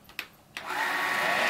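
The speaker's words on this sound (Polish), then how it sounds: "Jak się włączy odkurzaczek?" A small household vacuum cleaner is switched on after a couple of button clicks, its motor quickly rising into a loud, steady high-pitched whir close by.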